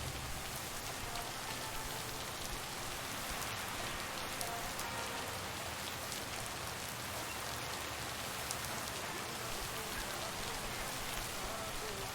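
Steady, dense rain falls without pause in the video game Lake, a constant close hiss of drops on surfaces with no voices over it.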